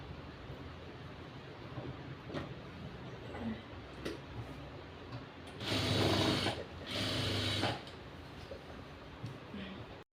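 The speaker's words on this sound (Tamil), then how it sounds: "ஒரு தையல் போட்டாலும் நல்லா நீட்டாக ஸ்டிச்சஸ் போட்டுருங்க" A sewing machine stitches a nightie seam, running in two short loud bursts in the middle of the clip over a low background of faint mechanical ticking.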